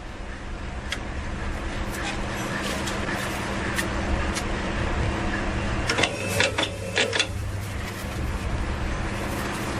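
A manual batch number printing machine runs with a steady mechanical hum, then gives a cluster of sharp clacking strikes near the end as it prints, close and moderately loud, with no speech.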